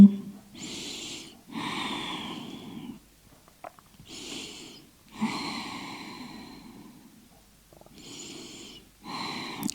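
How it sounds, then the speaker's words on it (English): Slow, deep breathing during a forward yoga stretch, each long, close inhale and exhale roughly a couple of seconds long, repeating in a calm, steady rhythm with brief pauses between breaths. "Hold a few deep breaths here."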